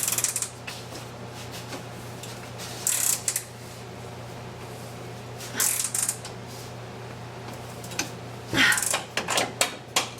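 A seat is bolted down inside a 1955 Chevy truck, with short bursts of ratcheting and mechanical clicking separated by quieter stretches over a low steady hum.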